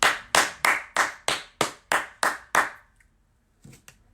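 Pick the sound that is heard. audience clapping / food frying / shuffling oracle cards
audience clapping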